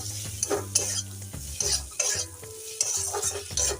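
Bitter gourd, pumpkin and tomato stir-fried in a pan, with a loud close sizzle broken by quick repeated scrapes and clatters of the spatula at an uneven rhythm, no voices.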